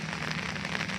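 Steady rain falls on Sosodikon hill in Kundasang, Sabah, a continuous even hiss of drops on surfaces with no pauses and no voices.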